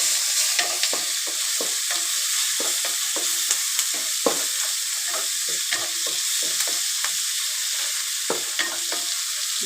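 Tomato sizzles in oil in a pan as it is stirred, a continuous close frying hiss broken by frequent rhythmic scrapes and taps of a spoon against the pan, with no talking.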